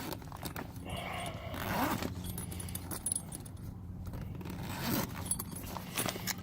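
Rustling and scraping of fabric and small metal bits, with the zipper compartment of an RV tyre compressor bag being pulled open in short bursts.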